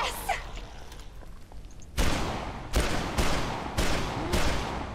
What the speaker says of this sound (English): I'm shooting you in the face.